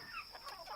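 Chickens cluck softly inside the Torres Farm chicken coop beside a goat pen, a faint, steady run of short calls with no one talking.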